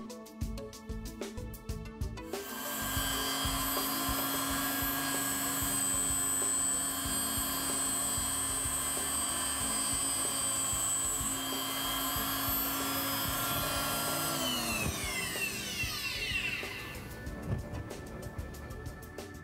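Small high-speed drill boring a hole through a double sided pearl, a loud close whine that holds steady, then winds down near the end with brief clicks before and after.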